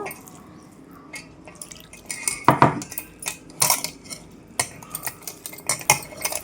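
Grated vegetables mixed with flour in a bowl for vegetable manchurian, giving close, irregular scraping and clinking of a utensil against the dish with soft wet squelches, no talk.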